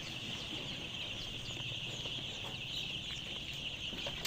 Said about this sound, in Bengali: এটা হচ্ছে লেয়ার মুরগির বাচ্চা